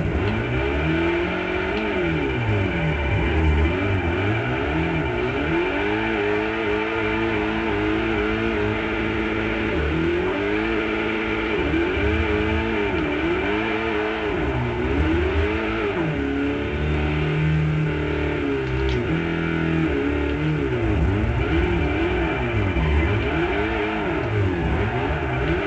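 Car engine in Forza 4 revving and whining continuously while drifting, the pitch repeatedly sweeping up and down with throttle, loud and steady throughout with no talking.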